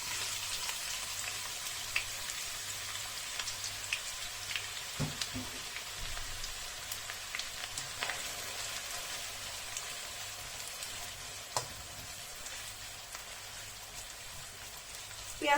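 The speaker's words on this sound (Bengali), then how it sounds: "পেঁয়াজটা কতক্ষণ পর্যন্ত ভাজতে হবে?" Sliced onions sizzling in half a cup of hot oil for ilish paturi, a steady, soft hiss with faint scattered pops throughout.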